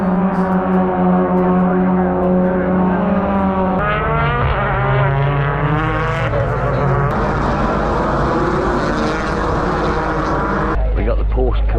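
Porsche Carrera Cup race cars passing at a circuit, loud engines roaring and shifting pitch as they go by in succession, close and continuous, with people talking over them.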